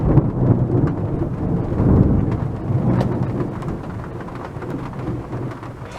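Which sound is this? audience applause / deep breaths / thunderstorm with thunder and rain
thunderstorm with thunder and rain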